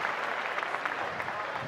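Church congregation applauding during a Spanish-language service, a dense, steady burst of many hands clapping at once, close and sustained throughout.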